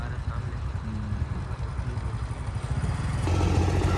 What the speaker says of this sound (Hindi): इस जगह से ट्रैक्टर से ट्रालियाँ भरते हैं